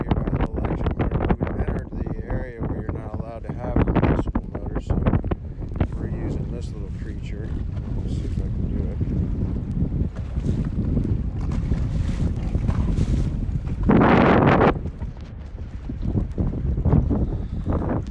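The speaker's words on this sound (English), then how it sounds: "I'm trying to get us out of the wind here so we can see a little bit better" Wind buffeting a small electric-motor boat over a seagrass flat, heavy microphone rumble and gusts throughout, with people talking underneath.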